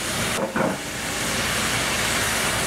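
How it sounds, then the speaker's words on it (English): Sausage fat hitting a pan of red cabbage stir fry, a loud sudden hiss that swells into a dense, steady sizzle filling the rest of the moment, close by with no speech. "you're gonna put the sausage fat into the vegetable"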